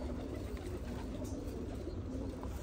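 Iraqi pet pigeons coo softly in their enclosure in cool late-autumn weather, low murmuring calls under a steady rumble of background noise, with no talking.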